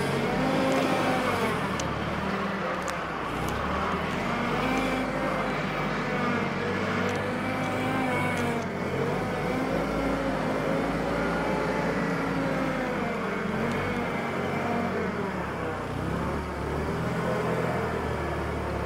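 A Mitsubishi FG30 6,000 lb propane (LP) forklift drives at its higher speed setting, its engine giving a loud, steady drone with a slight wavering pitch, held unbroken for the whole stretch with no talk.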